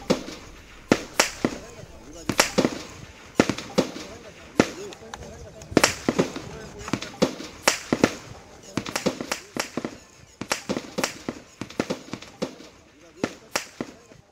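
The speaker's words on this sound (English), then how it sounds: "There you can even hear the firing taking place." Sharp gunshots crack in irregular bursts during a police shootout, some rapid and clustered, echoing against a quiet background with a voice speaking faintly at times.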